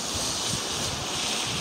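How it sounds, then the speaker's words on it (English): Steady broadband hiss of a pan sizzling as vinegar deglazes caramelized lamb bits, loud and close with no voices. "You can hear it sizzle."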